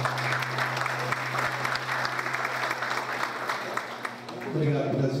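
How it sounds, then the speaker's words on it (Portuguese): An audience at a public hearing breaks into sustained applause, a dense, steady patter of clapping from the room that tapers slightly near the end, with a low hum underneath. "Uma salva de palmas, por favor."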